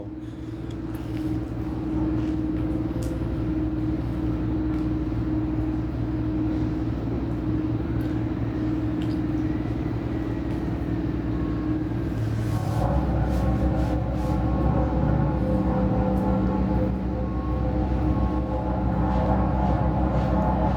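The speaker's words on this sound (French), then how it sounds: "Désolé pour le bruit, guys, ils font des travaux en arrière de nous autres." A steady, loud low rumble of heavy construction machinery working behind a house runs throughout, growing slightly heavier partway through, with faint higher engine tones on top and no voices.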